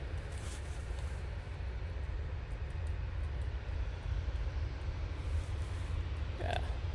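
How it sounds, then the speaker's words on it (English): A propeller aircraft approaching Manchester Airport, a steady broad engine drone holding constant for several seconds, moderately distant, with faint outdoor background noise. "There's a prop coming in"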